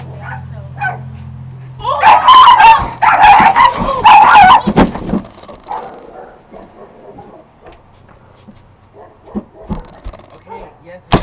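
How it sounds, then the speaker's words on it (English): A dog barks and yips in a loud, agitated burst during a sudden attack, mixed with frantic human talk and shouting, then settles into quieter scattered noises. "Leave your dog."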